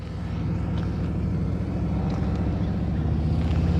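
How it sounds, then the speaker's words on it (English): A motorcycle engine lugs at too low RPM, a loud, steady low rumble with a chugging pulse that runs throughout, near and unbroken, with no talk over it. "You hear an engine going glug,"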